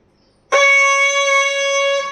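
A single sustained reedy note from a Thai pi oboe, bright and nasal, starting abruptly and held steadily for over a second, played up close.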